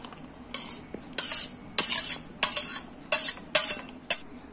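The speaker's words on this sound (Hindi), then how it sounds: "सारी चीजें हम डालेंगे इसमें एक बोल में।" Finely chopped onion, tomato and fresh coriander tipped into a bowl, heard as about seven bright, clinking scrapes of a spoon against the dish in irregular bursts, fairly close and quiet, with no talking.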